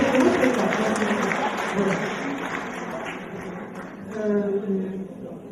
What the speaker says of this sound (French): Martine Clivaux, que je vous demande d'applaudir